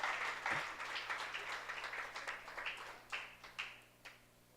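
A church congregation applauding during a theology class, a modest round of clapping that starts strong and decays into scattered separate claps, fairly faint and roomy, with a brief voice near the start.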